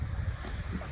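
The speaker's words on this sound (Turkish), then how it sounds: "Hava çok rüzgarlı arkadaşlar" Wind buffeting a microphone outdoors, a low rumbling roar with gusty fluctuations and a faint wash in the background, no voices.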